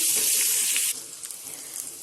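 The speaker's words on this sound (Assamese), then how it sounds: "এইখিনিও 2 মিনিট আমি এনেকৈ ফ্ৰাই কৰিম।" Loud, steady sizzling of white gourd pieces frying in a pan, dropping to a quieter crackle about halfway through.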